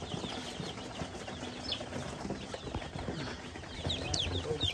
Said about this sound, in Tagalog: So ngayon ay binigyan na natin ng patuka itong ating mga alaga dito. At yan, tumutuka na sila.